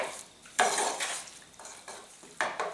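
Salt, turmeric, black pepper and red pepper stirred together in a bowl: a few scraping, clinking strokes of a spoon against the dish, close and fairly quiet, with brief pauses between sweeps.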